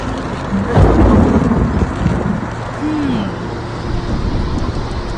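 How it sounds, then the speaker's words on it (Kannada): Steady rain hisses close by with a low rumble of thunder, and a brief whistle-like tone rises over it. "ಮಳೆ ಶುರುವಾಯ್ತು"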